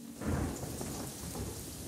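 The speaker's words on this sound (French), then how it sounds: "il se mit à pleuvoir" Rain falls in an animated cartoon fairy-tale scene, a soft, steady hiss of drops with a low distant rumble underneath, faint and continuous with no voices.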